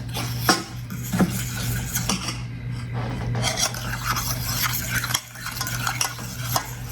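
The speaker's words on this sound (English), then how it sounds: "We're gonna stir up, combine all the ingredients together." Banana bread coffee creamer ingredients stirred in a pot, a steady scraping swirl of utensil against metal with scattered clinks, close and continuous, under a low constant hum with no talk.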